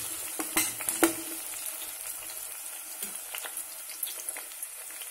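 Onions are tipped into hot oil for a broad bean and dry fish curry, with a few clattering hits at first before settling into a soft, steady sizzling hiss nearby, no speech.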